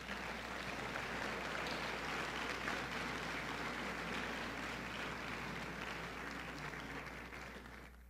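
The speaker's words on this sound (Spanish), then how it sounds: "¿Por qué no le das un aplauso al Señor?" A church congregation breaks into sustained applause, a wide, fairly distant wash of many hands clapping that holds steady and then slowly fades.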